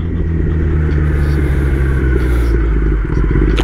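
Kawasaki ZX10R sport motorcycle on a morning ride, its engine droning steadily with a deep, loud rumble and constant wind roar throughout, with a slight dip and surge near the end.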